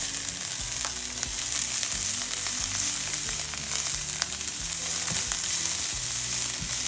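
A mixture seasoned with garlic powder, salt and pepper fries in a pan, giving a loud, continuous sizzle with faint stirring scrapes over a low, steady hum.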